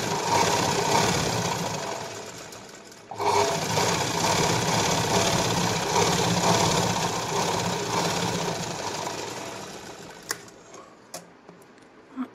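Sewing machine stitching a katori blouse, running in a steady loud whir for about three seconds, pausing briefly, then running on continuously before slowing into a few separate ticks and short bursts near the end.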